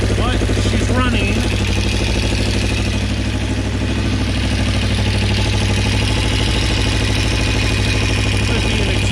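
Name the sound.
bobber motorcycle engine running at idle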